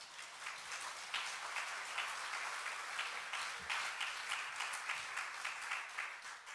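A church congregation claps together during a Sunday sermon, a sustained, fairly distant roll of applause with a loose rhythmic pulse running through it.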